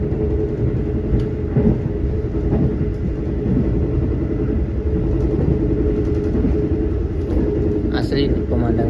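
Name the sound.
Ranggajati executive passenger train running on rails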